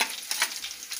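Mustard seeds drop into hot oil for Maharashtrian zunka and give a brief, close crackling sizzle with a few sharp pops, lasting about a second, and no one speaks.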